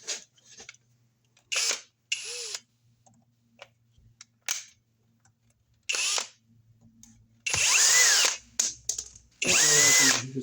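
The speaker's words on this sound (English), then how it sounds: "I'll just do them with the screw gun" Cordless screw gun backing screws out of a wall outlet in an electrical box, several separate loud whirring bursts of varying length with rising and falling motor pitch, separated by quiet gaps and small handling clicks.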